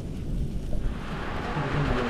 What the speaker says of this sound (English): As you can hear, a lot of thunder, a lot of lightning as well.